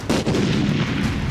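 Explosions from artillery shelling across the border, heard just before a ceasefire: dense, continuous booming and rumbling with sharp onsets at the start, loud and sustained throughout.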